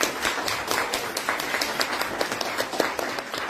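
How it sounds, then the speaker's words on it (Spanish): Applause from an audience at a botanical society gathering, a steady wash of many hands clapping for several seconds with no voices over it. "Y otro aplauso para los que comienzan."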